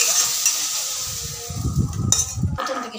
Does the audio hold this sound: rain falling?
no